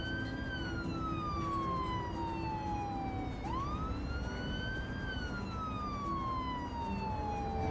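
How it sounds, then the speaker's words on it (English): A police car siren in the city-building game Cities: Skylines wails steadily, its pitch sweeping down, then sharply back up and down again, loud and continuous with no voices. "next to this squealing police car here"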